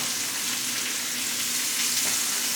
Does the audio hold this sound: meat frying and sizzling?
yes